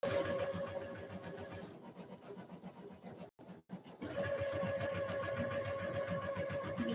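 A sewing machine stitches fabric in quick, rapid bursts, running briefly, pausing for a moment of near silence, then starting up again close by at a steady hum.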